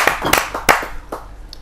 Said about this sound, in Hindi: जोरदार तालियों से आमंत्रित करते हैं राजवीर राज जी